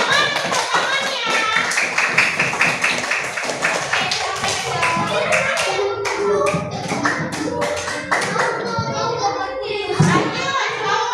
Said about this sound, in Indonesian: Oke, tepuk tangan dulu kelompok Neptunus